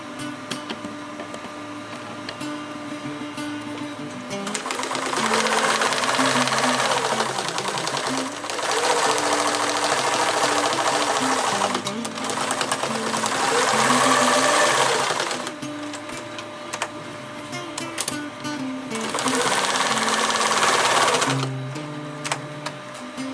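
A sewing machine stitches a bar tack on a rollup backpack in several loud bursts of steady rapid stitching, each lasting a few seconds, with brief quieter pauses between runs.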